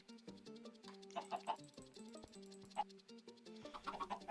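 Baby chickens in a video game peep and cluck in quick, overlapping chirps, fairly faint and continuous, with a steady tonal game sound underneath.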